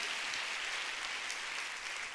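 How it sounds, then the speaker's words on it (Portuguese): Sustained applause from a church congregation during a worship service, a dense, even wash of many hands clapping without pause from start to finish. "Um bom momento para você dar uma salva de palmas para Jesus"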